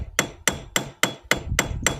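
A hammer strikes metal seven times in an even rhythm during a tractor repair, each blow a sharp, ringing clang with a brief decay, loud and close, with no talk.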